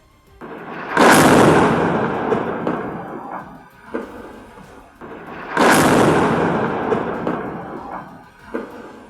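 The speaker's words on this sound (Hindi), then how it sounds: "वो मिसाइल एक बहुमंजिला इमारत से टकराकर फट गई। जोरदार धमाका हुआ" A missile strikes a multi-storey residential building in Lebanon: two heavy blasts several seconds apart, each a loud sudden boom that rolls into a long, slowly fading rumble.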